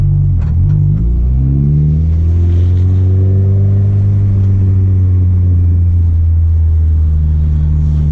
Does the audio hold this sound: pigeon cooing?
no